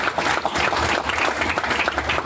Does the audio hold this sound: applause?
yes